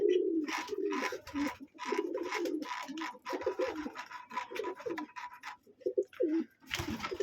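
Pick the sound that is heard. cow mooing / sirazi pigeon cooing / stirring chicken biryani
sirazi pigeon cooing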